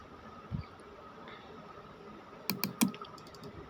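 A few quick keystrokes on a computer keyboard while a value is entered into MetaTrader 4 trading software, a short cluster of close, crisp clicks after a quiet pause with a faint earlier tap.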